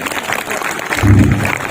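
Applause from a crowd at a village gathering in India where donations are announced, a short burst of clapping that swells toward the end and stays fairly close and loud.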